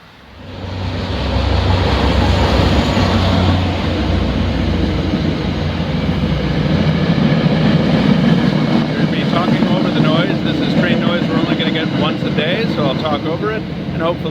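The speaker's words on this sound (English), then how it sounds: "with an MBTA commuter rail train running by" An MBTA commuter rail train passing close by, a loud sustained rumble and roar that builds in the first second and holds steady for over ten seconds.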